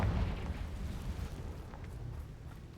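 A low, rumbling fire blast from the Confringo spell in Hogwarts Legacy booms at the start and then rolls off into a fading crackling rumble, faint and muffled with no talk over it.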